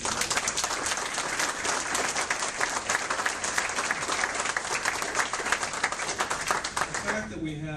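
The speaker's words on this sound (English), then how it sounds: "let's give a round of applause to these candidates" Dense, sustained audience applause for congressional candidates at a club gathering, steady clapping filling the whole stretch before tapering off at the end.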